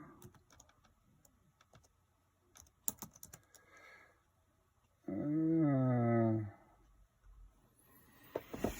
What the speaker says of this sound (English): I've got to see my keyboard. I am not a good typist.